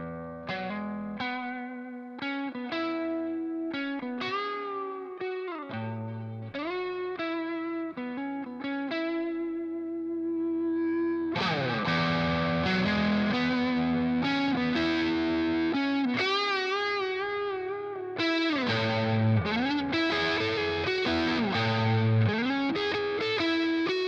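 An electric guitar runs through a Jam Pedals Rattler mk.2 Rat-style distortion pedal, playing a gritty, sustained lead line with bends and slides, then heavier, fuller distorted passages, loud and alone.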